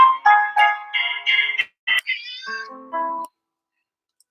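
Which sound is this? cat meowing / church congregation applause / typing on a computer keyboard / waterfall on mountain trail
cat meowing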